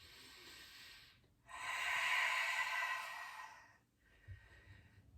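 One long, deep breath during a core and restore yoga session, a breathy rush rising and fading, near and fairly soft, followed by a quieter breath in a still room.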